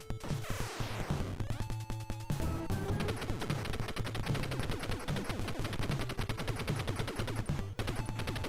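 Gunfire in the Super Contra video game, played on a Power Player Super Joy III console, rattles in fast repeated chiptune shots over constant game music, loud and continuous throughout.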